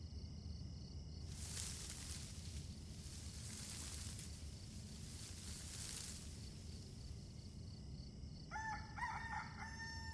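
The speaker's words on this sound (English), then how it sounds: "The rooster already crowed." A rooster crows in long drawn-out calls, loud and near, repeated several times over a steady low background rumble, with a few higher chirping or clucking sounds near the end.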